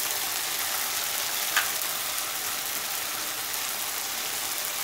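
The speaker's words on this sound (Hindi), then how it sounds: "और अब इसे हम भून लेंगे।" Spices with ginger-garlic paste, turmeric and salt fry steadily in a pan for a cabbage pakora curry, giving a continuous, even, fairly loud sizzle with one brief sharp crackle near the middle.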